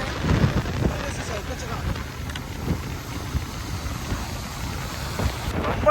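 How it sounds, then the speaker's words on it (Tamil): Heavy rain beats down during a motorbike journey from Chennai to Ramanathapuram, a steady close hiss with gusts of wind while someone talks over it. "மழை வந்து அடிச்சு எடுத்து வாங்குது"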